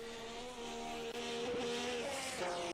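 Several 1967 Formula One race cars at full throttle on the Mount Panorama circuit in a racing video game, engines droning and rising in pitch, loud and continuous with overlapping engine notes.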